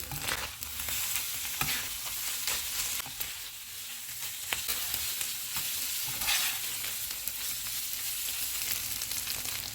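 Keema with coriander, green chillies and ginger slices sizzles steadily on a hot tawa while being stirred, a loud, continuous frying hiss broken by scraping spatula strokes, close up and with no talking.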